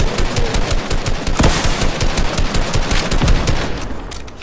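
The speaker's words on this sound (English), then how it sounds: "Keep shooting, keep shooting." Rapid automatic gunfire in the Fortnite battle royale game, dense overlapping bursts of shots and impacts sustained loudly throughout with no talk.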